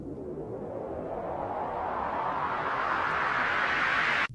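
A synth riser effect loop from the Launchpad app swells as a rising noisy whoosh, building steadily in pitch and brightness for about four seconds before cutting off abruptly.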